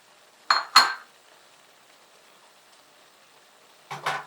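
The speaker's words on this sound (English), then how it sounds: "I'll add carrots." Carrots tipped into a pot of Kenyan-style beef stew with reduced tomato, giving two quick clattering knocks close together, then quiet, then a final clink near the end.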